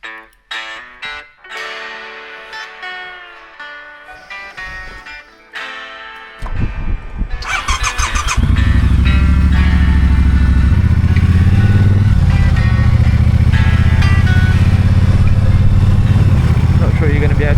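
A Triumph motorcycle on the way to a bike meet fires up and rumbles at idle, then roars loudly and steadily as it rides off. Engine and wind noise fill the second half.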